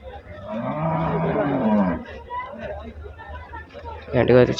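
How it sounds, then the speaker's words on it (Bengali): A cow at the Gabtoli cattle market lets out one long, loud lowing moo, surrounded by the chatter of people nearby. "সামনে আমরা একটা গরু দেখতে পাচ্ছি।"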